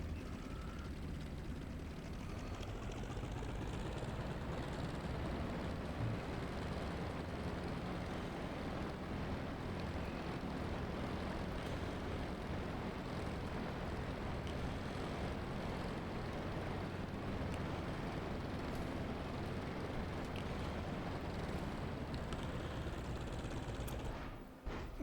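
A propeller warbird's engine in the Warbirds flight game drones steadily under throttle, a dense continuous roar that holds at constant loudness for the whole stretch and cuts off abruptly at the end.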